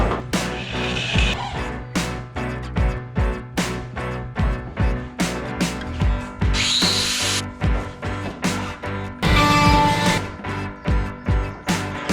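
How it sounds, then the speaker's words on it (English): A power drill bores a hole for a battery box in a Ford Pinto in a series of short, loud bursts, pausing between each, with a couple of longer grinding stretches. "I'm gonna go ahead and drill the hole for the battery box"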